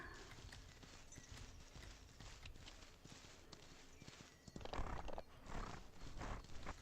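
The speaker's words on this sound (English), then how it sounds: "that's one of the places that the horses tend to spawn a lot" Horse hooves clip-clop steadily in the video game Ranch of Rivershine, with a whinny near the end; the hoofbeats are close and fairly loud against a busy game soundscape.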